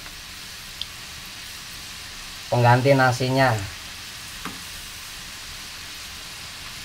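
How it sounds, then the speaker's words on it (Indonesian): Tofu fries sizzle in hot oil, a continuous crackling hiss that runs throughout, briefly overlaid by a voice speaking. "Jadi kita goreng, biarkan hingga matang."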